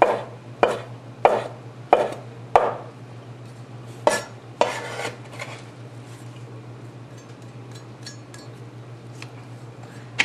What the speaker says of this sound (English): Just coarsely chop the cilantro.